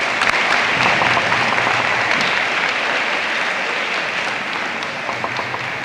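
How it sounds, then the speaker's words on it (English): Steady, dense applause from a large banquet audience for the band that played the national anthem, a continuous wash of many hands clapping at even loudness throughout. "So let's give them a round of applause, please."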